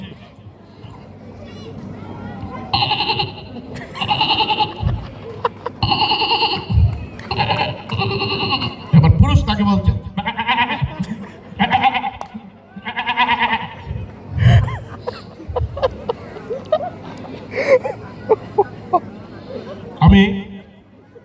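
A mimicry artist imitates the bleats of a female and a male goat, producing a series of loud, close bleating calls in bursts, with brief spoken narration between the calls.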